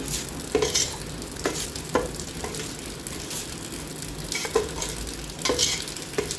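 Mango pickle masala stirred into warm oil, with a steady soft sizzle broken by a few scraping spoon strokes at irregular intervals, close and moderately loud, no talking.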